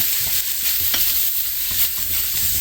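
Steady sizzling of food frying in a pan, with scraping and clinking of a spatula stirring through it at irregular moments.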